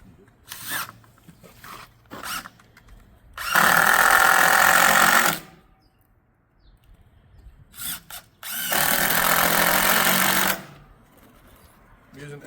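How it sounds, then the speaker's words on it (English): A power drill drives exterior-grade Torx screws into a wooden beam in two long, loud bursts of high whirring, with short triggers and handling clicks in between. "When you're doing these, simply line them up and start screwing them in."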